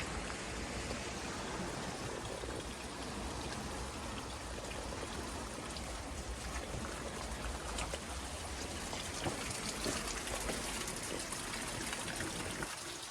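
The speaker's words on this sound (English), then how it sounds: "This really dense forest here is so cool. Oh, just for you guys, a little waterfall." A small waterfall stream trickles through dense New Zealand forest on its way into the ocean, a steady broadband rush and splash of water close by, constant and without speech.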